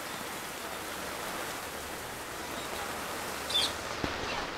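Heavy rain falls steadily during a storm, a constant broadband wash with a few faint knocks near the end and no talking.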